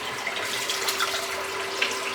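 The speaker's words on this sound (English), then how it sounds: "I'm going to empty this sink out first because it's full of hair" Water drains from a bathroom sink full of shaved hair as it is emptied, a steady soft gurgling trickle with a few faint bubbling plinks and no voices.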